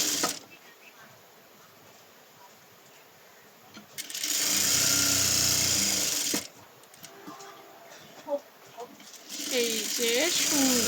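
A sewing machine runs in two bursts of fast whirring stitching along the shoulder seam of a maxi dress, loud and close, with someone talking quietly between runs.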